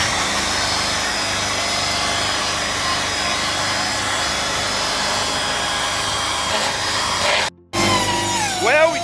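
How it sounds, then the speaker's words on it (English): Wire brush scrubbing heavy rust off an old OBS Ford F-150 steel fuel tank, a steady, close abrasive rasp running continuously with a brief break near the end before resuming. "I'm going to use a different wire brush for it"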